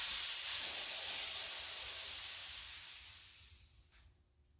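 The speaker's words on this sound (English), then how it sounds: "right now I'm over at the compressor and I'm turning down the pressure" Compressed air hisses from a compressor as its pressure is turned down. The steady hiss thins and fades over a few seconds, then cuts off abruptly into silence.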